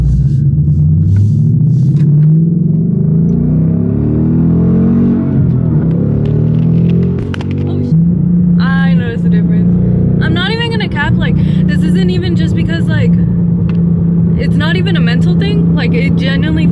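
A 2015 Ford Mustang GT V8 fitted with an E85 flex-fuel conversion kit rumbles close by, its engine revving up and down, then holding a steady idle while a person talks over it.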